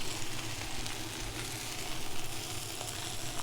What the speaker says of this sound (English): you're just basically sauteing these up